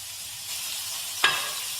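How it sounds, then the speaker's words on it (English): Fatty pancetta pieces dropped into hot oil in a frying pan give a steady faint sizzle, with one sharp crackling burst about halfway through, and no talking. "Now the oil has been heated in the frying pan and I've tried to separate some of the fattiest bits from the pancetta, and I'm going to add that to the pan"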